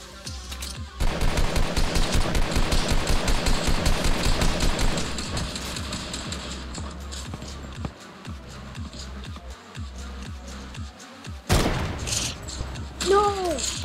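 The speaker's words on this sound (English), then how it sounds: "Aiden, I'll shoot down his wall" Rapid automatic gunfire in Fortnite shooting down an opponent's built wall: a loud, dense burst of rapid shots for several seconds, then scattered single shots and game effects.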